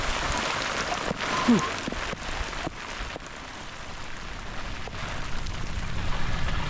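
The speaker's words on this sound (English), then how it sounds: "As you can see, it's raining pretty hard now." Heavy rain pours steadily outdoors in Mallorca, a dense continuous hiss with close patter, while a person exhales briefly.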